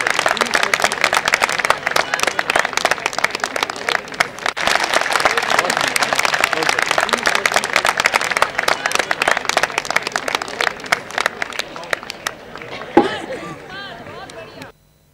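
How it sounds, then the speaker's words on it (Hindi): Audience applause at a book launch for a yoga and diabetes book, sustained dense clapping from a crowd for about twelve seconds before tapering off into quieter room sound. "तालियां जोर से और बजती रहनी चाहिए"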